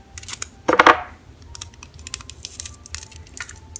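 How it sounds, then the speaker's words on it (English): Tape pulled off a roll for a homemade tea-bag label, one brief loud tearing rip near the start followed by quieter scattered taps and crinkles of it being stuck down, close and without talk. "Take another piece of tape"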